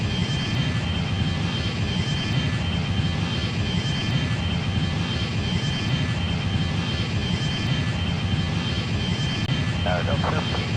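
Embraer 140 jet engines at takeoff power, a loud, steady roar that fills the whole clip with little change, heard from inside the cabin.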